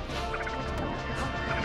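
A forward smash lands in a Super Smash Bros match between Fox and Samus, heard as a dense burst of crashing, impact-heavy game effects that fill the whole moment with no voices.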